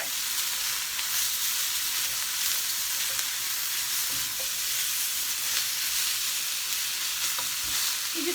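Tripe fries in a pan with a steady, bright crackling sizzle that holds evenly throughout, close and continuous with small pops scattered through it and no talking.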